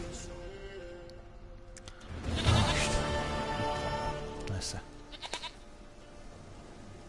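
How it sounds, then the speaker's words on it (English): A goat in the video game The Witcher 3: Wild Hunt gives a few bleats in the middle, with some short sharp game sounds around them, while someone talks briefly. "Goat of mine, dearest, sweetest goat."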